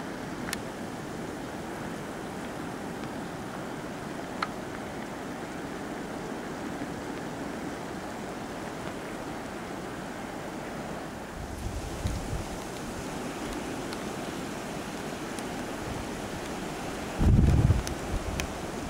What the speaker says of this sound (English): Then over that bank there is the ocean.